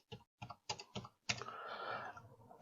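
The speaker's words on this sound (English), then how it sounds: "You simply start typing." A few crisp keystrokes on a computer keyboard tap out in quick bursts, then a longer rattle of keys, close and quiet, with no one speaking.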